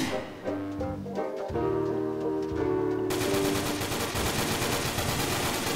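Rapid automatic gunfire in the online game Roblox, played in a retro-style version; dense bursts of shots grow louder and more continuous toward the end, mixed with game sounds and some background talk.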